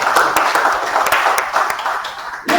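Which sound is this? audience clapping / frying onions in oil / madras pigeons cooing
audience clapping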